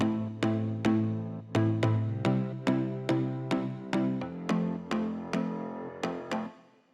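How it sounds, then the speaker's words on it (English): Piano and marimba notes in a build-up, run through a high-pass filter, strike in a steady repeating rhythm with sharp attacks and ringing decays, loud and close with no voices. "the piano and marimba are being high passed and sounds like this"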